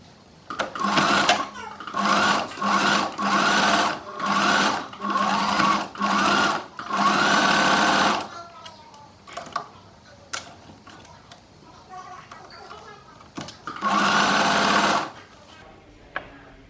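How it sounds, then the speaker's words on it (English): A sewing machine stitching a skirt runs in short bursts, its rapid mechanical chatter starting and stopping repeatedly, followed by quieter clicks and a final longer run. "and we can start sewing there."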